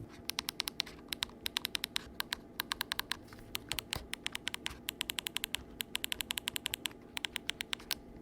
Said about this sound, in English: Let's listen to how the keys sound, though, because I think they sound great